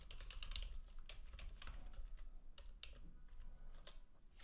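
Rapid keystrokes as code is typed on a computer keyboard, an uneven run of soft clicks and taps, close and fairly quiet, with no talking.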